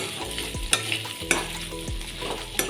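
Chopped onions frying in hot oil in a pan, stirred with a utensil: a steady sizzle runs throughout, with a few sharp scrapes and clatters of the spoon against the pan, close and alone.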